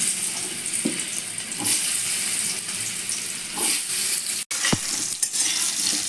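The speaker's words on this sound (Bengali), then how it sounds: "আলুগুলো ভালো করে ভেজে নেব" Salted, cut potatoes fry in hot oil with a continuous bright sizzle, broken by occasional scraping stirs and a brief clink of the pan.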